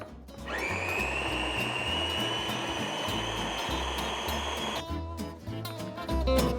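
Blender whizzing a creamy pepper pasta sauce with grape and nutmeg, a loud steady motor whir with a low rhythmic chugging that runs for about four seconds and then stops, followed by some clattering.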